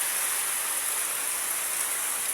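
Steady rain pours down at a workplace, a dense, even hiss of falling drops that fills the whole short stretch with no voices over it.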